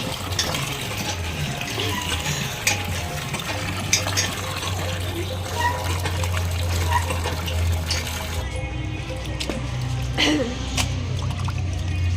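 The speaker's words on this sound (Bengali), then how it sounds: "এখনো মাংস ধোয়াচ্ছে" Water runs continuously from a tap while meat is washed outdoors for a neighborhood picnic at night, a steady splashing gush heard close, with people talking over it and a low background hum.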